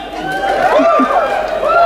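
A crowd at a fan convention panel keeps up sustained whooping and cheering, with many voices rising and falling close together.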